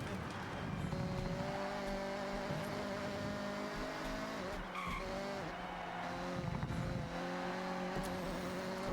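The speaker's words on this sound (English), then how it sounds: "Need to hear the engine." In the Forza Horizon 6 racing game, a car engine drones and revs steadily, with tire squeal and skidding mixed in throughout and no music.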